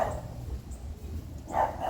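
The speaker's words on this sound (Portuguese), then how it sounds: "o meu cachorro latindo, porque meu cachorro tem ódio do vizinho" A dog barking at a neighbour, with a couple of short barks at the start and near the end, moderately distant, over a low background rumble.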